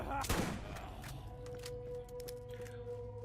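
Gunfire in Borderlands as bandits are shot, a loud opening blast followed by a rapid scatter of sharper shots over a lingering tonal hum from the game.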